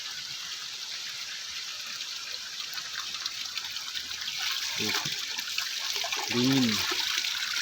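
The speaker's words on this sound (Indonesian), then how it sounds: "Jadi dari sela-sela batu ini teman-teman, sumber mata airnya." Spring water flows steadily from between rocks near a waterfall, a constant bright trickling wash with someone briefly speaking over it.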